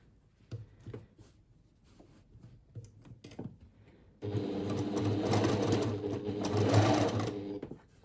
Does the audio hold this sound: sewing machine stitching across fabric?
yes